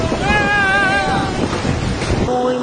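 A swollen, flooding river in Colombia rushes loudly and continuously, its turbulent water carrying a broad roar with rolling stones knocking beneath, close to the microphone with wind buffeting throughout.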